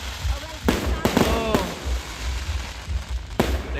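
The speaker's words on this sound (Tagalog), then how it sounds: "May pa-fireworks si Kamaya." A fireworks display at the Camaya Coast beach resort sends out several loud, sharp bangs with crackling tails against steady outdoor background noise, while people nearby exclaim and talk.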